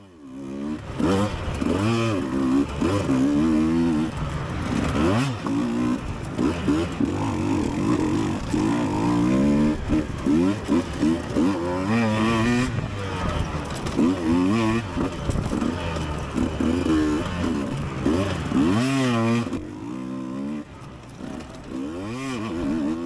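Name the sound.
dirt bike engine revving on cross-country race course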